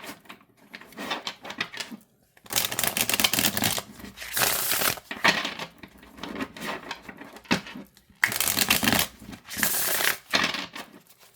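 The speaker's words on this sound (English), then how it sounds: "let's go ahead and see how it shuffles." Tarot cards are shuffled in bursts of rapid riffling and flapping, separated by short quiet pauses, close up and fairly loud.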